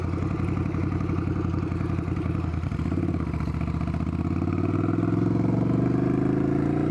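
A 2022 Ducati Scrambler motorcycle runs in city streets, its loud pulsing engine thrumming close by and rising steadily in pitch as it revs up through the second half, with no speech over it.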